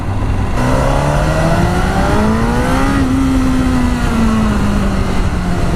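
A Honda CBR1000RR Fireblade SP superbike engine sounds up close while riding. Its loud, steady drone climbs in pitch, then holds and eases slightly, with a constant wind roar underneath and no talking.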